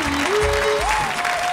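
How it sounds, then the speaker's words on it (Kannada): A studio audience on a Kannada television game show applauds in a short, dense burst of clapping, with a sustained musical tone rising in steps over it. "ಜೋರ್ ಚಪ್ಪಾಳೆ"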